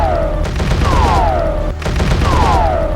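Enemy gunfire in a video game rattles in loud, repeated bursts, with whistling projectile tones sweeping downward over the shots in two similar waves.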